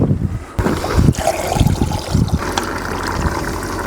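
Water is poured into a pot while cooking outdoors at a camp in the Botswana bush, giving a close, splashy trickle with clunks and handling noise over several seconds and no talking.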